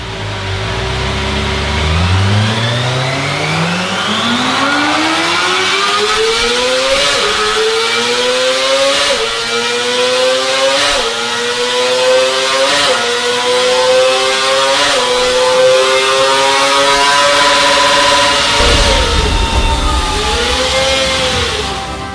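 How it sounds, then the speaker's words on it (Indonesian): A Kawasaki Ninja ZX25R screams through a dyno run, its loud, high-pitched engine wail climbing repeatedly through the gears with brief dips at each shift before winding down near the end. "kalian barusan udah lihat kan video dari dyno run testnya si ZX25R"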